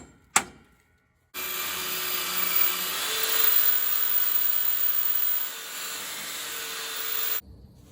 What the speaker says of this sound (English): Likely it's not going to come out, and I'll have to drill this